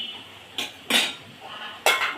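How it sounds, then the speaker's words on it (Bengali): A lid goes onto a cooking pan with papaya and poppy seed curry, giving three bright metallic clanks spaced about half a second apart, close and alone over a faint background hiss. "একটু ঢাকা দিয়ে দিই"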